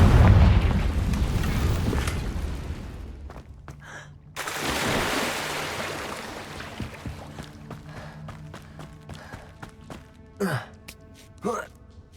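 The Confringo explosion spell cast in Hogwarts Legacy: a deep boom with a burst of rumble at the start, then a second crackling blast midway, followed by quieter scattered pops and magical effects while a voice speaks.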